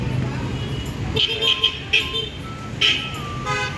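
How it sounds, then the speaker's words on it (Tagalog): A jeepney approaches on a busy road, its horn giving several short toots over a steady rumble of traffic, with voices nearby. "may parating na na jeep."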